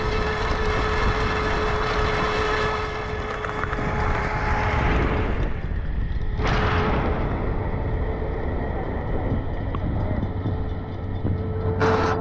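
A noisy old model locomotive engine with worn gears drones continuously with a steady mechanical whine and grinding rattle, loud and close, with a sharp clank midway.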